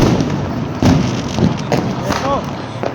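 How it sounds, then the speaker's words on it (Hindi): A big Diwali firecracker goes off in a series of sharp thumping bursts and crackles, loud and close, with voices murmuring in the background. "सीधा सबसे बड़ा वाला पटाखा इनसे ही छुड़वाया गया"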